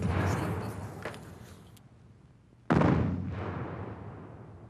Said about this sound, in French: Entends-tu le canon au loin?